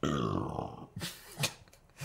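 A single loud, drawn-out burp opens the moment and trails into a low, guttural rumble. It is followed by a few short breathy sounds and the start of speech.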